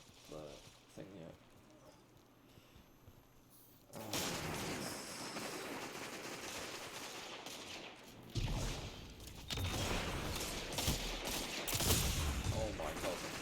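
Hand cannon fire in a Destiny 2 PvP match: sparse shots at first, then dense, rapid bursts of gunfire that grow louder and keep going with little pause.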